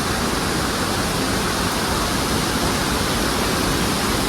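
Amate waterfall near Belagavi, off the Goa road, gives a loud, steady, unbroken roar of rushing water that fills the scene from start to end, with no voices.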